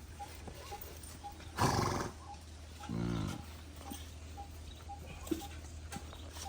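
A mare gives two short neighs, a loud breathy burst followed by a lower vibrating snort-like call, close by against a quiet outdoor background with faint chirps.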